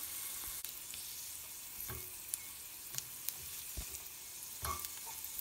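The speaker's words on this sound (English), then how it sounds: "The onions. They're starting to sizzle." Onions sizzle in a pan with a faint, steady frying hiss, broken by a few soft clicks and stirring knocks, close and quiet.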